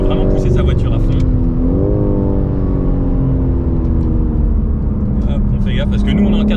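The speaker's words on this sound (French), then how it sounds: "parce qu'on peut vraiment pousser sa voiture à fond" A four-wheel-drive car pushed hard on a track day, its engine droning loudly with rising revs and a gear change, while someone talks over the cabin noise throughout.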